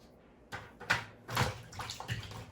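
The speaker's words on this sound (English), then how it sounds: "I'm going to pour my peaches into the pan" Canned peaches pour into a baking pan in a few wet sloshing bursts of syrup and fruit, close and fairly quiet, with no talking.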